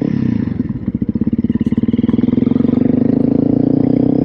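A Honda CRF300L motorcycle engine idles nearby, a steady rapid thumping exhaust pulse that stays even and moderately loud throughout.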